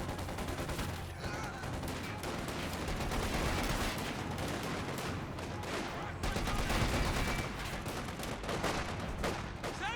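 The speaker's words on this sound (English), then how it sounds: "Volksgrenadiers firing away" Dense, continuous rifle fire from German Volksgrenadier infantry in Company of Heroes 2, rattling volleys layered with bursts and distant booms throughout the battle, loud and unbroken with no talking.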